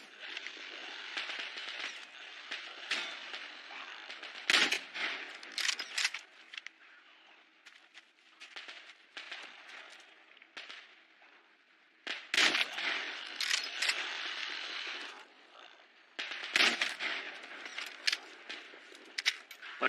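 Gunfire in the shooter game Metro Exodus comes as sharp, separate shots spread across the stretch, set against a bright, busy background of game noise, with several loud cracks standing out clearly.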